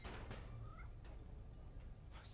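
A cat meows a few times in Marvel's Spider-Man, thin wavering cries heard quietly over a steady low game-ambience rumble.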